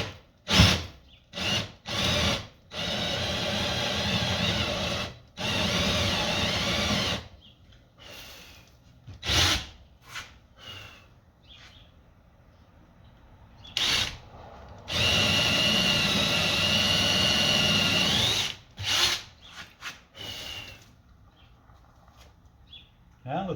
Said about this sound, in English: And we're going to drill those down.